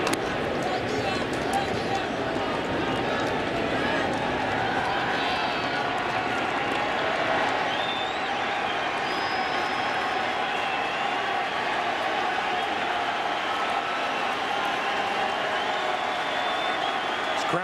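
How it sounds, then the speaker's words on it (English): A big stadium crowd at a 2011 World Series baseball game, Cardinals at Rangers, sends up a steady roar of cheering and shouting with scattered clapping. The noise stays dense and continuous throughout, heard from a distance under a broadcast commentator talking. "Crowd is pleading with C.J. Wilson to end the top of the second right here."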